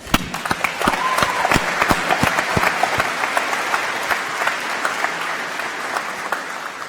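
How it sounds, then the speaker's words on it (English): A commencement ceremony audience gives a warm round of applause, dense clapping heard throughout at steady volume, with a few sharp individual claps standing out early on. "So please join me in giving Mike Bowman another warm round of applause."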